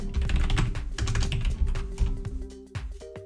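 Rapid keystrokes on a computer keyboard as the archinstall command is typed, a dense close burst of clicks that slows and ends with a few final taps.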